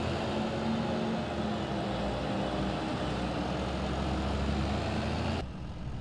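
Tractor engine idling in a farming simulator game, a steady low drone with constant rumble that holds evenly and then drops off abruptly near the end; no talking.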